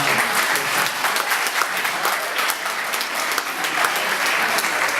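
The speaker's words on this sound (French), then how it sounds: "applaudissez une fois encore pour le plus." Sustained audience applause at a World Sickle Cell Day event, dense steady clapping from a large crowd filling the whole stretch without letup.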